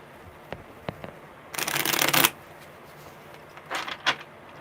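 Tarot cards get shuffled in one crisp riffle lasting under a second, followed later by a couple of softer shuffling rustles and faint taps, close and alone without talk.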